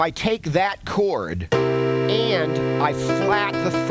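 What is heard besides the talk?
No distinct noise like a dog, phone or traffic.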